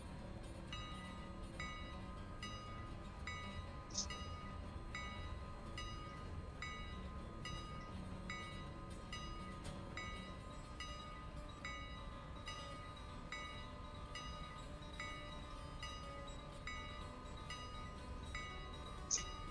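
A train running in the Railroader video game, a steady low rumble of rolling wagons with regular rhythmic clicks and a faint horn tone held throughout, with no talk.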